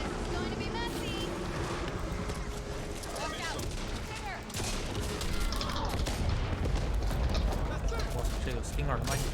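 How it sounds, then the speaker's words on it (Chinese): Gunfire rattles from a moving vehicle in the video game Back 4 Blood, dense bursts of shots and mechanical clanks over engine rumble, with players talking throughout. "我全程在车上开枪而已"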